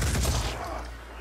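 A loud volley of gunfire in the video game Phoenix Point erupts at once and then rolls off into a fading, rumbling tail.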